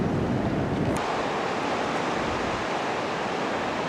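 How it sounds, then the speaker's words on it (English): Ocean surf and wind roll steadily at Seal Rocks Beach on the Oregon coast, a loud, continuous wash of breaking waves with a brief gust or rumble near the start and no voices. "This is Seal Rocks Beach."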